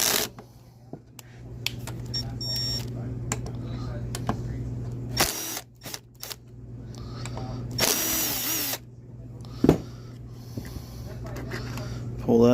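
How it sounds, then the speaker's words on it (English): A power driver backs T25 screws out of an Echo PB580T backpack blower during a carburetor swap, in several brief whirring bursts separated by quiet handling noises and clicks. "I'm gonna get a couple of these screws out."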